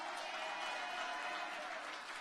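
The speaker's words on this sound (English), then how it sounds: "hats off to Mia Mottley. Give her a clap for that." An audience at a political community meeting in St. Joseph claps for Mia Mottley, a dense, even wash of applause sustained throughout at moderate distance.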